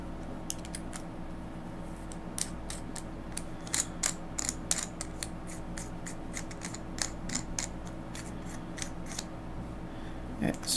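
A threaded part being screwed down on a China Sentinel vape mod gives a quiet, steady run of small metallic clicks and ratcheting ticks at close range, with no one talking over it.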